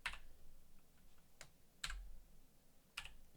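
Typing an equation on a computer keyboard: four sparse, separate key taps with quiet gaps between them, close but soft, with no talking.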